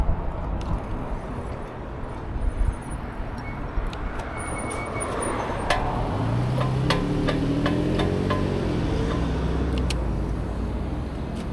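A car turns on a rural road beside a moving eBike, its engine and tire noise swelling from a faint hum into a steady close rush under constant wind buffeting, with a few sharp clicks and ticks along the way.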